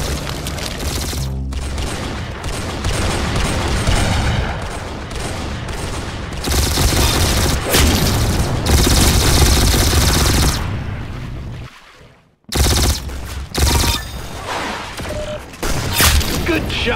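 Loud, continuous gunfire and explosions fill a video game shooter match, a steady barrage of shots with booms that drops out for a brief moment near the end before the firing resumes; voices talk over the action.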